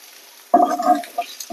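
Ash gourd bhaji frying over a high flame, with a sudden burst of stirring and sizzling that starts partway through and carries on in uneven scrapes and pops, loud and close.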